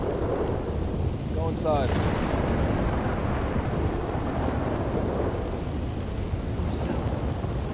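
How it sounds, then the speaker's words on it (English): A thunderstorm in a forest at night brings steady rain and loud, rolling thunder that lasts throughout, while people speak briefly over the storm. "It's raining and it's thunder's loud."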